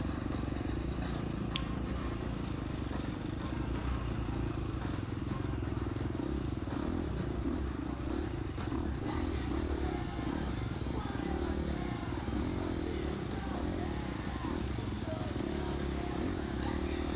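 A KTM motorcycle labours along a rough cross-country race trail, its engine a constant loud drone with clattering and scraping from the terrain throughout, with faint voices and crowd noise mixed underneath.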